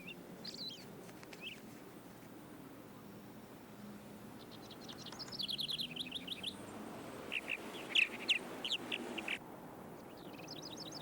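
Purple martins chirp around a martin house, giving bursts of rapid twittering and gurgling calls against a quiet outdoor background, with several birds overlapping in the busier middle stretch.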